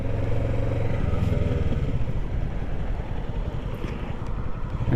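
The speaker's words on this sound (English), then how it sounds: "So we're going to get on the interstate and ride," Kawasaki Ninja 650 motorcycle ridden on the interstate, with a steady, loud engine drone and wind rumble that run unbroken throughout.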